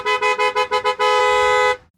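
A car horn honks in six quick beeps followed by one long sustained blast, loud and close, set within a comedic fictional security check.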